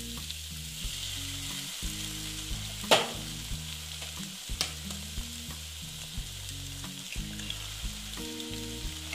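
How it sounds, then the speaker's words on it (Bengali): Two eggs fry in a hot pan with a strong, continuous sizzle and occasional louder crackles, heard up close over steady background music. "দেখো বন্ধুরা, এবার না আমি এখানে ডিম দিয়ে দিচ্ছি।"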